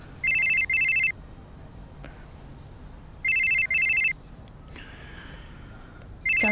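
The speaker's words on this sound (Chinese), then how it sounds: "张大哥，我看你还是接电话吧，万一朱小姐有什么急事找你呢？" A telephone rings in a Chinese urban TV drama, repeating in clear double bursts of electronic trill with short pauses between them, loud and close with no talk over it.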